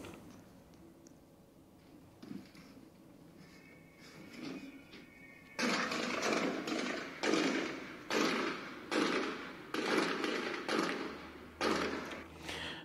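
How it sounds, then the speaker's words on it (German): Gunshots in a recording of the Munich attack: after quieter thuds, a series of about eight loud, sharp reports rings out at roughly one-second intervals, each with a short echoing tail. "Da waren jetzt andere Schüsse dabei"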